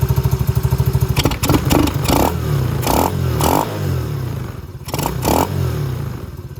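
A Venom Grizzly 125cc ATV engine fitted with a Nibbi carburetor idles with a steady fast putter, broken by several loud clattering bursts and rising revs, close and loud with no talking.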